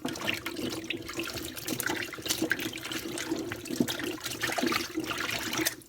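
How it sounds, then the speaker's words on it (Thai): Fern vegetables are washed in water in a sink, with continuous splashing, sloshing and running-water noise that stays close and fairly steady for several seconds, with no talking. "จะล้างจากสองน้ำค่ะ ล้างเอาอันนี้ออกเอา"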